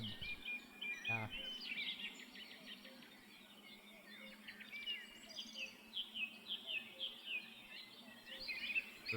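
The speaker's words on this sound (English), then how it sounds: "That's a North American hooded bird." A North American hooded bird calls faintly from a distance, a scatter of thin, high chirps and trills repeating over a quiet outdoor background.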